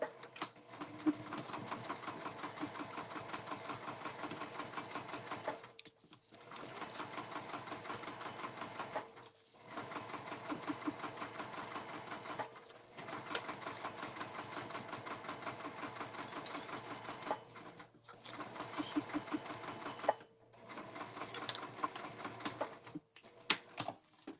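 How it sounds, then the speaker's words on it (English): A sewing machine stitches the side seam of a circle bag at a quarter-inch seam allowance with a 3 mm stitch length. Its close, fast chattering comes in several sustained runs separated by brief pauses. "So we're going to stitch this other side at a 1/4 of an inch seam allowance, just like the other one."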